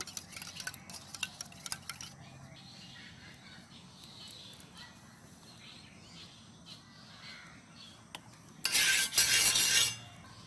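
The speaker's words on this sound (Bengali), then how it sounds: "একটু সামান্য পরিমাণে লবণ দিয়ে দিচ্ছি, একটু ফেটিয়ে নিচ্ছি।" Eggs whisked with a pinch of salt in a bowl for a village-style egg roll: faint, soft stirring and scraping at first, then a loud, close burst of rapid clattering strokes near the end.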